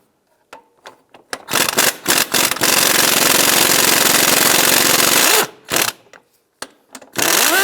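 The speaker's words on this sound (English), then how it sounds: "Now we're going to pull these two bolts out" Bolts coming out of the transmission mount on a 1999–2005 Volkswagen Jetta, using 18mm and 16mm sockets: long steady loud whirring of a power tool between short rattling bursts, close up with no talk.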